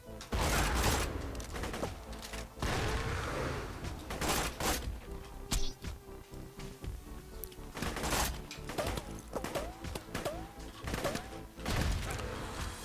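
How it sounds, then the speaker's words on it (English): Loud, dense gunfire and explosive bursts fill a Borderlands 2 raid battle on Digistruct Peak, with a thrown grenade among rapid shots, mechanical clanks and a few bird-like chirps, continuous and busy throughout. "Throwing grenade."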